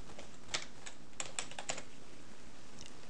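Someone types a password on a computer keyboard during an Ubuntu install in VirtualBox. A short run of crisp, close key taps comes in small clusters over a steady background hiss, with no talking.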